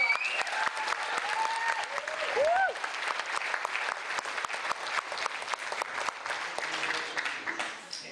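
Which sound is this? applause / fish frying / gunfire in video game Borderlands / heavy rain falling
applause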